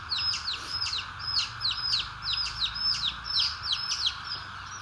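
Desi chicks on a poultry farm give repeated high, sharp peeping chirps in a fast regular series over a steady hum.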